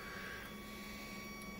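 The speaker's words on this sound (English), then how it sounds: "So here's the actual printer." A Tevo Tornado 3D printer runs its first print, giving a steady, continuous mechanical whir and hum with a faint high tone, close and even throughout with no talking.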